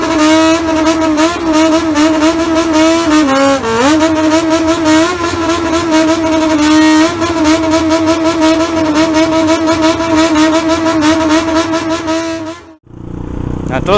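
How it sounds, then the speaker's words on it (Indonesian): A modified Japanese bosozoku-style motorcycle engine revs loudly and steadily for several seconds with a brief dip in pitch, then cuts off abruptly near the end. "mereka bertanding untuk menciptakan suara-suara motor yang merdu dan enak didengar"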